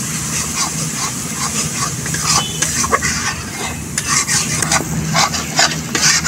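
Ground coriander, cumin and a little meat masala fry in a pan while being stirred, a steady sizzle broken by scraping spoon strokes and occasional clinks, close and fairly loud, with no talking.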